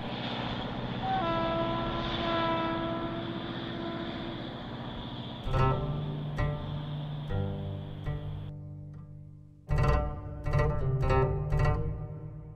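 A tourist train in Iran pulls away from a stop near the German Bridge, with a sustained tonal horn-like drone giving way to rumbling, clanking rail noise and sharp rhythmic knocks as it gathers pace.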